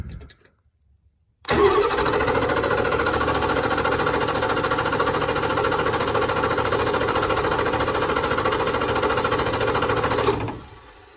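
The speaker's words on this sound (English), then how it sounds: "just give it a few seconds break between cranking here. You don't have to crank it that long." A mid-1990s Ford 7.3 diesel truck, just after a fuel filter replacement, cranks loudly and steadily for about nine seconds after a short silence, a dense, even churning drone that then trails off, heard up close with no talking.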